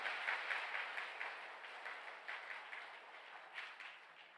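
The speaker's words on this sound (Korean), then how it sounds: "다시 한번 큰 박수 보내주시기 바랍니다." Church congregation applause during a Korean worship service, a soft, distant, steady patter of many hands that fades slightly toward the end.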